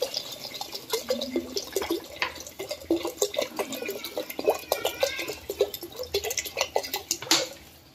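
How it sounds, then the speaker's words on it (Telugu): Water is poured into a pot of holy basil (tulsi) rasam after a fried spice paste goes in, giving a steady close liquid splashing and dripping with uneven bursts throughout, no voices. "ఇప్పుడు చారు ఎంత కావాలనుకుంటున్నావో అన్ని నీళ్లు పోసుకోవాలి."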